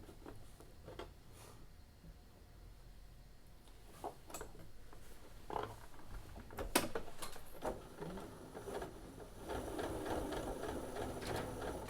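Sewing machine stitching fabric on a backpack and finishing with a backstitch, quiet bursts of rapid mechanical clatter separated by pauses and small handling knocks, with a steadier run of stitching at the end.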